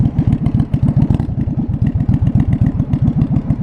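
A 1982 Yamaha Virago 920cc motorcycle engine runs loud and close, its deep, even exhaust pulses thumping in a fast, steady rhythm.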